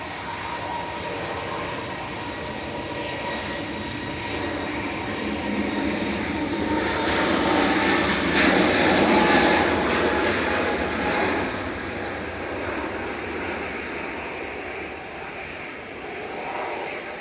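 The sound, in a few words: EasyJet airliner departing Manchester Airport, jet engines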